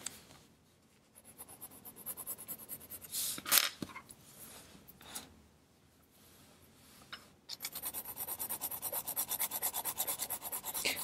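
A colored pencil scratches across paper in short, intermittent strokes at first, then settles into steady, fast back-and-forth shading near the end, close and fairly quiet.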